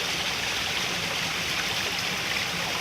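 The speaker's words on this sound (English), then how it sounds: "I wanted to show you this. This little running brook here." A small running brook beside the Glen Canyon Loop Trail in Point Reyes National Seashore makes a steady, close, unbroken rush and babble of water, with no voices over it.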